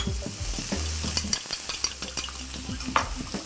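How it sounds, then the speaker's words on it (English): Eggs for a spicy masala omelette are stirred as they sizzle in a frying pan, with continuous frying hiss under repeated scraping and clinking strokes close by, and no voices. "Now we just have to stir it around so we get the right shape."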